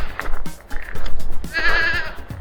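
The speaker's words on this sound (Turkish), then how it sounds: "Keçiler burada bize bağırıyor." Goats call out on an outdoor hillside in Turkey, a few short bleats and then one long, loud, nasal cry near the end, with light rustling and no talk.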